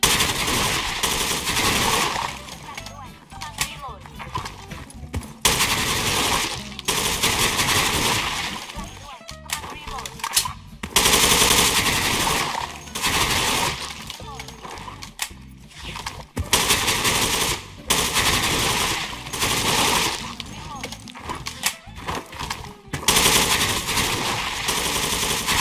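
FAMAS Water FX rifle firing in the online shooter Sudden Attack 2, rapid bursts of automatic gunfire separated by short pauses, loud and close, with someone talking between and over the shots.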